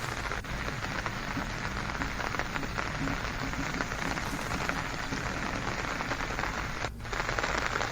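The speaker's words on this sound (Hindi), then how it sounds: "सुबह से ही मूसलाधार बारिश का सिलसिला जारी है" Heavy, continuous downpour in hilly country, a thick steady hiss of rain striking surfaces close by, unbroken and fairly loud, with a brief dip near the end.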